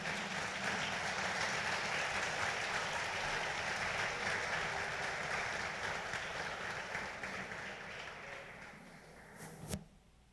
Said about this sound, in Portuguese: Vamos colocar em pé, vamos aplaudir Jesus.